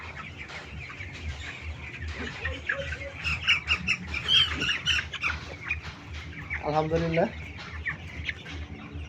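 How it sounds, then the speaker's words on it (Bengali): A young chicken about eighteen days old clucks and squawks in short bursts close by, with a brief rising run of calls near the end, while someone talks. "তো দেখেন একটা মুরগি,"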